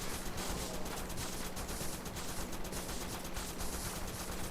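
Assault rifle fire in the top-down shooter Crimsonland, heard as a fairly quiet, unbroken rattle of rapid shots over a dense noisy game soundscape with a steady hum running beneath.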